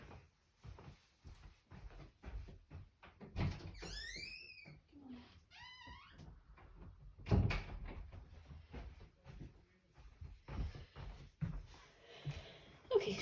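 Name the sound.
door being opened for dog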